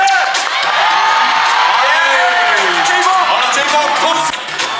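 A packed crowd at a celebrity all-star basketball game cheers and whoops steadily, with applause woven into the dense roar. The noise stays loud and sustained for almost the whole stretch, then dips briefly near the end.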